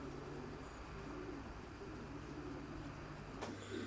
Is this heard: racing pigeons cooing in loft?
yes